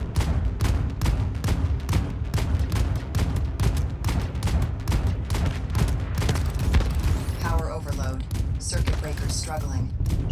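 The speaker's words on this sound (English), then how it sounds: "Star Destroyers are shooting at us" Star Destroyer weapons pounding a spaceship in Void Crew, a rapid, steady barrage of heavy blasts and thuds, followed by electronic chirps and warning tones near the end.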